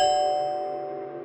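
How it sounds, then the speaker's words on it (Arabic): A ding-dong doorbell chimes once in an old apartment building at night, its two tones ringing clearly and then slowly decaying with nothing else around it. "صحيت على صوت الجرس"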